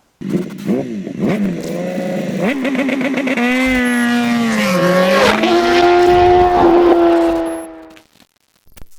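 A BMW M1000RR motorcycle engine runs on a dyno at a race shop, revving hard and climbing in pitch over several seconds to a loud, sustained scream before cutting off abruptly.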